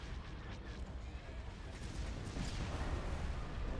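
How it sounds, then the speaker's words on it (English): Heavy booming fire from a hypervelocity cannon in a Star Wars: Empire at War space battle mod, a low rumbling barrage of blasts that swells louder in the second half. "Hypervelocity cannon firing."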